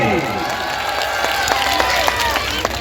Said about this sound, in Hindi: एगो जोरदार ताली।